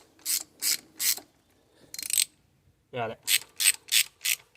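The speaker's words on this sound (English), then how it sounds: "I need a ratchet for that one. You want a ratchet and a short 1-foot extension." A ratchet turns a thermostat housing bolt on a 1993 Chevrolet S10, making crisp, close ratcheting strokes. Three come in a quick row, a fourth follows after a pause, then a brief voice and five more rapid strokes.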